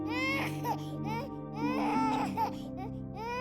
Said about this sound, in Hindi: किसी बालक के रोने की आवाज़ आ रही है